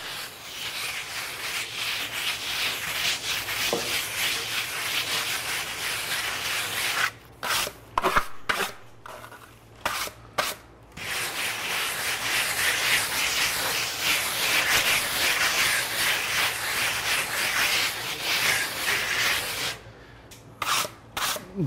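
Dryvit Lymestone finish base coat being rubbed smooth by hand on an exterior wall, a continuous close gritty scraping hiss that stops briefly twice with a few knocks and handling sounds before resuming.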